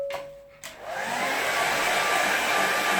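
A hair dryer switches on close by to dry a watercolour painting, starting with a couple of short clicks and a brief tone, then settling into a loud, steady blowing whoosh.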